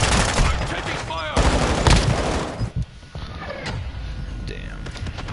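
Rapid automatic gunfire in a video game shooter, with sharp repeated shots and mechanical clatter, while a player talks over the action.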